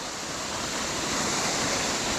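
Davidson's Linn waterfall pours in a steady, full roar of falling water that fills the space evenly and close, with no break or talk across the short stretch.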